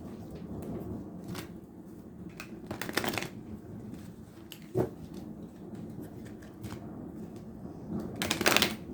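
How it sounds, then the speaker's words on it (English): Tarot cards being shuffled and drawn, with soft papery riffles and several sharper bursts of shuffling at intervals, quiet and close, with no talking. "we're going to pull 3 cards"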